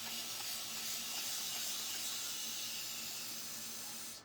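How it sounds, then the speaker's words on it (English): Spray bottle misting water onto a board, a continuous close hiss that holds steady for about four seconds and then cuts off. "So spray with water."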